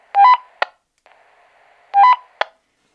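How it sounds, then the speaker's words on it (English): Roger beep from a Wouxun KG-Q10H quad-band handheld radio: a loud, crisp electronic tone sequence ending in a short chirp, heard twice about two seconds apart. "Menu item number 13, the Roger beep."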